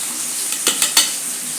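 Food sautés in a pan for a banana-flower kuzhambu, giving a soft steady sizzle broken by three quick stirring scrapes, with no talk.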